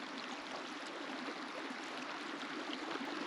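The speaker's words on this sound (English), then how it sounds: "The water's flowing down from here." A stream in Mexiquillo Natural Park rushes downhill in a continuous broadband wash of flowing water, steady and fairly loud, with no talking.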